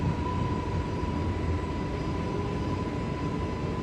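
Simulated airliner at full throttle rolling for takeoff from LaGuardia in Microsoft Flight Simulator, a steady loud engine roar with a constant whine, unbroken and without talk.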